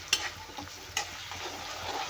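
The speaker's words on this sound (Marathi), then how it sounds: "कांदा आपल्याला गोल्डन भाजून घ्यायचा आहे तेलामध्ये." Chopped onion frying in oil in a pan for an egg curry, a steady soft sizzle with a few sharp stirring scrapes near the start and around one second, fairly quiet and with no talking.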